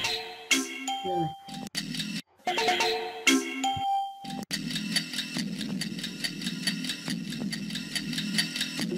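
A ringtone sound effect for a PowerPoint countdown timer plays as chiming ding tones, broken by short gaps and followed by a steady melodic ringing pattern, with a brief spoken word.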